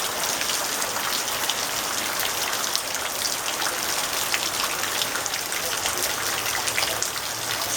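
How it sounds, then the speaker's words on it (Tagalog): Steady rain falls on a Tuesday morning as a dense, continuous hiss of drops hitting surfaces, close and even in loudness throughout with no pauses and no voices. "Kanina pa umulan."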